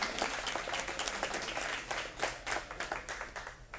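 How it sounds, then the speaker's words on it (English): Crowd applause fills an evening campaign gathering for a city council race, a dense, steady patter of many hands clapping at moderate loudness, pulsing slightly throughout with no talk over it. "Give yourself a round of applause."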